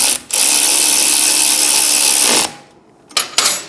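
Mechanical ratcheting and whirring from a 12mm socket tightening an exhaust nut on a Triumph Speed Twin 1200 motorcycle during an X-pipe install: a loud continuous burst, a pause, then a few short clicks.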